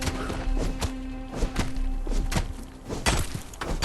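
Stone being struck in Conan Exiles, a series of repeated dull thuds and knocks in an irregular rhythm over a steady game background hum.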